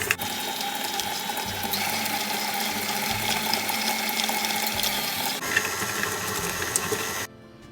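Stand mixer creaming butter and brown sugar for gingerbread dough, whirring with a steady mechanical rattle and churning texture for several seconds before cutting off abruptly near the end.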